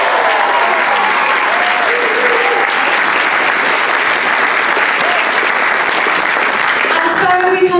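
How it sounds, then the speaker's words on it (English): Loud, sustained clapping from a large audience, steady and dense throughout, with a few voices faintly audible beneath the applause. "so we can give them a big round of applause"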